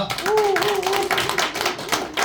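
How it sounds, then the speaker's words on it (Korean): A crowd claps in dense, continuous applause at a company morning assembly while a voice carries a sustained tone over it. "산토울 아침 조회를 여러분의 큰 박수로 시작하겠습니다"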